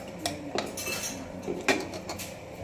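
A spoon stirring beef curry in a metal pot, with several distinct clinks and scrapes against the sides at an easy, uneven pace, fairly quiet and close.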